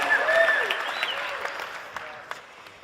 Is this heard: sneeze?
no